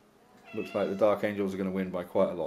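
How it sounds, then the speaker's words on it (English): A cat meows loudly and repeatedly in a room where people play an Orks versus Dark Angels tabletop wargame, the long wavering calls nearly drowning out someone talking. "And that's the cat."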